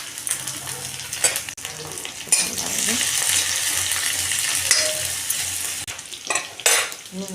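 Garlic added to a pan where onion and fresh green chillies are already frying, giving a steady close sizzle broken by the scrape and clack of a spoon stirring against the pan.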